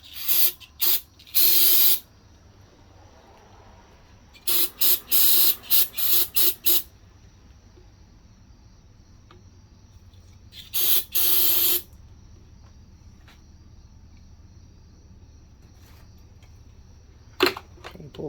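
Cleaner sprayed onto a Walbro carburetor from a two-stroke Echo weedeater in bursts: several short hissing blasts, a longer spray, another burst, then a final quick puff, against a quiet background.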